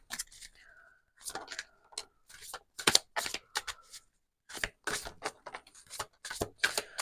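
Moonology oracle cards are shuffled on a desk, giving repeated crisp riffling and slapping bursts up close with short pauses between them.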